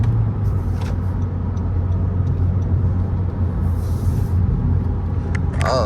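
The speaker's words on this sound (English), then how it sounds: "See if I can hit a little downshift and get some power going." A vehicle engine rumbles steadily and loudly from inside the cab as it downshifts and pulls under power, a continuous low drone with no clear break.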